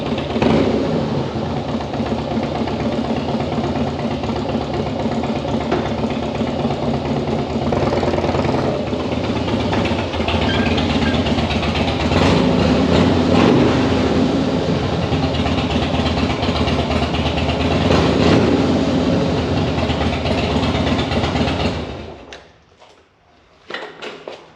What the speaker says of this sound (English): I think I'm going to sneak a ride in the shop with it.